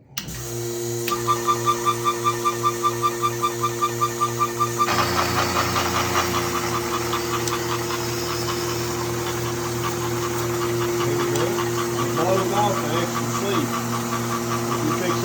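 A greenhouse seeding machine runs while sowing a 102-count tray, starting with a rapid rhythmic ticking that settles into a loud, continuous mechanical hum and clatter.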